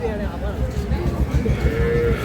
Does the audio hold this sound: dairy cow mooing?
yes